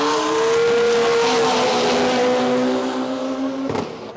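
Race cars roar on a drag racing track, a loud, sustained high-revving engine note holding steady for several seconds before a sharp burst near the end, with no talking.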